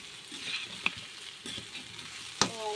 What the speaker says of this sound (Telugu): ఇప్పుడు స్టవ్ని లో ఫ్లేమ్లో పెట్టి ఈ ముక్కలన్నీ ఒక్కసారి ఇలా బాగా ఫ్రై అయ్యాక కలుపుకొని